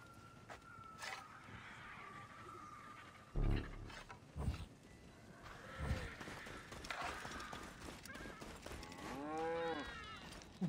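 An ox pulling a cart moos in the ancient Egyptian setting of Assassin's Creed Origins, a long, wavering, rising low call near the end, after clopping hooves and scattered thumps over a constant game ambience.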